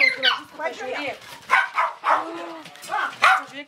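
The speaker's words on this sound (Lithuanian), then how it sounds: "Pažiūrėkit tą šuniukus." Puppies at a dog shelter bark and yip in short bursts, mixed in with people talking nearby throughout.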